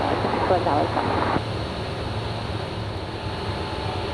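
Steady cabin drone of a small airplane engine flying northwest over I-5 near Puget Sound, a constant loud hum throughout, with a brief voice near the start.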